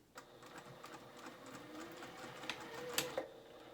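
A sewing machine bastes ruffles onto a main dress fabric, its motor whirring steadily in a close, continuous run with a few sharper mechanical clicks near the end.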